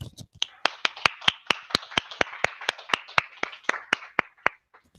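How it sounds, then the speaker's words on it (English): After a talk on high-throughput electron microscopy, a small audience gives sparse applause: crisp, evenly spaced claps that sound like only a few hands, with quiet gaps between them in a hushed room. "it's time for a little applause"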